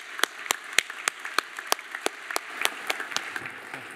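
A modest audience claps to welcome a guest lecturer at a university engineering talk, with crisp, distinct, evenly spaced claps heard moderately close, thinning slightly toward the end.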